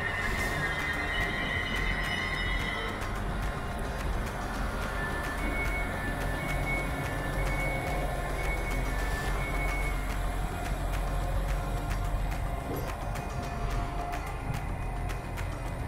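Train at Vitebsk central railway station, a steady rumble of rolling railcars with intermittent wheel squeal, continuous and fairly loud throughout with no talking.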